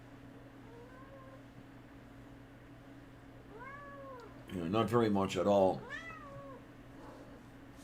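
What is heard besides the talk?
cat meowing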